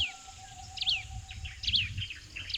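A Eurasian thick-knee calls in the open: quick, high, squeaky chirps in short bursts, moderately close, over a low, steady background rumble.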